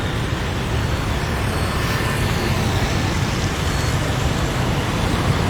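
Dense, steady street traffic roars in Ho Chi Minh City near Ben Thanh and Nguyen Hue Street, a continuous loud wash of engines and tyres with no talking.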